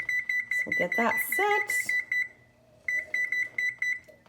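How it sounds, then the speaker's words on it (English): A kitchen timer being set for baking pumpkin bread gives rapid, regular high beeps that run under a short spoken remark, pause briefly, then resume close by. "So we'll start our timer"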